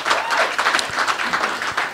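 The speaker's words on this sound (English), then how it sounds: "let us give ourselves a round of applause for allowing this process to take place" A South African public service union's inaugural conference audience breaks into applause, many hands clapping in a thick, continuous roar for the full couple of seconds, close and lively.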